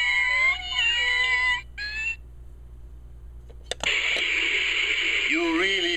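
A cartoonish sound effect of many kittens meowing in rising and falling high cries, loud and close, broken by a short gap and then resuming over a steady low hum.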